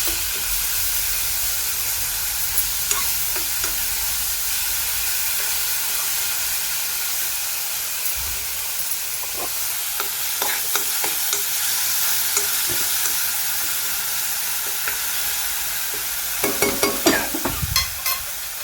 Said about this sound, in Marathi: आता आपण मिरची लसूण आलं कोथिंबीर हे वाटून घेतलं ते घालत आहोत ते आपण आता व्यवस्थित परतून घेत आहोत